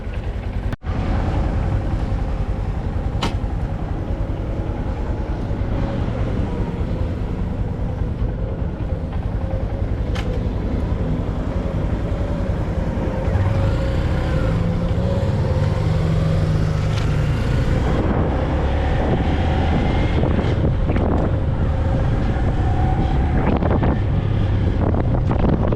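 Wind buffets the microphone while riding a brand-new 2026 Honda Grom motorcycle on the road, a continuous loud rushing roar with the engine's drone faint underneath and no talking.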